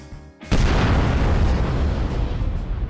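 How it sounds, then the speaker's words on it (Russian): A large bomb detonates in Garry's Mod with a bomb mod, a sudden loud boom after a brief lull that rolls on into a long, heavy rumbling blast. "это просто можно наблюдать вечно эти взрывы"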